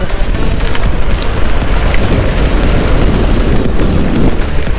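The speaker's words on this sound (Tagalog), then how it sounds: "Napakalakas ang hangin ngayon guys" Strong wind roars steadily and loudly throughout during a night motorcycle ride on Marilaque Highway in the Sierra Madre, with buffeting rumble against the microphone and no voices.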